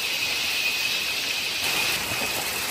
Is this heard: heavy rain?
yes